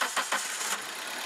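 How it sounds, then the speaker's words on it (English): A car engine cranks with a few rapid pulsing bursts, then catches and settles into a steady, even idle, close and moderately loud, during in-cylinder pressure testing. "Start the engine."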